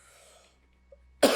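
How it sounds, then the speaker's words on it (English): A single sharp, loud cough bursts out close by at the very end, after near silence with a faint hum in the background. "And I'm coughing."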